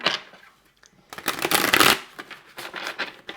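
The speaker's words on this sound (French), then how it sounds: "j'avais envie de voir aussi avec le tarot zen d'Osho, ça fait un petit moment que je ne l'ai pas utilisé" Osho Zen tarot cards are shuffled by hand for a reading, giving close, crisp riffling bursts that swell and fade over a few seconds, with no talking.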